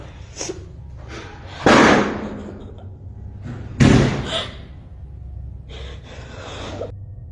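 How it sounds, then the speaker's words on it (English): A door to a bedroom slams shut by itself, heard as two heavy bangs with a breathy gasp-like rush, set against a low steady room hum with no talking. "the door to her room suddenly slammed shut by itself"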